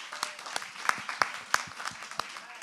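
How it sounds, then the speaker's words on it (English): An audience at a panel on Philadelphia's next generation in Black music claps in a lively burst, with many sharp hand claps rippling close and fairly loud across the whole stretch. "Give yourselves a round of applause."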